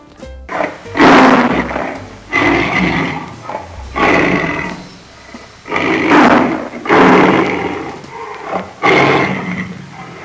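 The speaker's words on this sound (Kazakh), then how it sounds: "Бұл арыстан." A lion's loud, rough roars come in repeated bursts with short gaps between them, close and powerful, with no talking.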